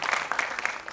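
Brief burst of audience clapping at a Hindi stage play performance as an actor is introduced, dense and fairly loud for about a second.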